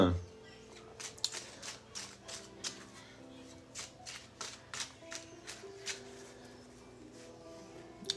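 Tarot cards being shuffled by hand, a steady run of soft riffling bursts and light slaps repeating every half second or so, close and moderately loud with no talking.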